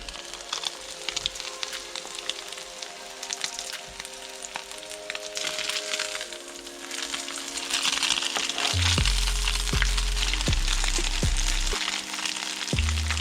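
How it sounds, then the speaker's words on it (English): Small sand dabs frying in hot oil, giving a steady, close crackling sizzle that grows denser and louder midway, with a few low knocks near the end. "When our oil is nice and hot, we're going to pop them in and get them to where they're nice, crispy, and golden."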